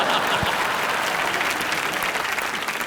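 Studio audience clapping on a live Hindi comedy show, a steady, dense wash of applause that continues evenly without a break throughout.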